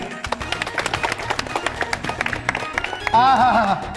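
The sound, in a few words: loud applause from audience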